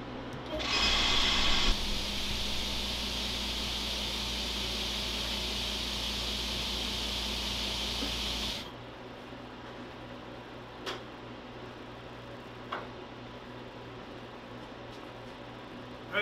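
The vacuum of a screen-printing exposure unit drones with a loud, steady motorized whir for about eight seconds then cuts off, leaving a quieter background hum with a few faint clicks.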